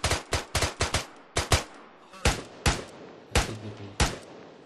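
Gunfire in a video game shooting an enemy: sharp, loud shots in quick bursts and single cracks, irregularly spaced, close up with no talk.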